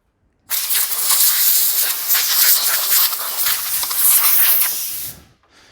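A loud, steady hiss of compressed air blasting from a hose to blow sanding particles off a woodworking project, running for about five seconds before cutting off.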